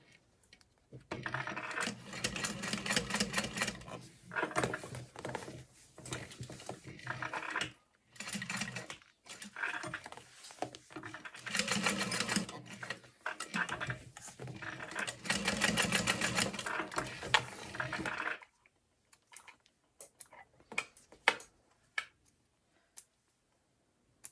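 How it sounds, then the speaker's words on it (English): A sewing machine stitches a small square onto a strap, running in several long rapid bursts separated by brief pauses, close and steady, ending with a few scattered clicks and handling sounds. "I'm just gonna sew a little square"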